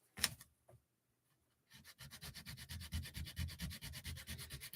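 A plastic corner being sanded by hand with 120-grit sandpaper: a couple of brief scrapes, a pause, then a steady run of fast, rhythmic rasping strokes, close and alone.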